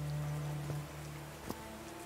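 Continuous rainfall in the Call of the Sea game, a broad steady hiss of drops with a couple of brief louder splashes over a low sustained musical drone, no voices.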